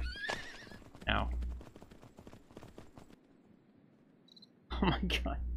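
Horse neighing while being tamed in the video game Myth of Empires: two sharp whinnies with hoof clip-clops between them and crickets chirping in the quiet stretches, and someone talking over parts of it.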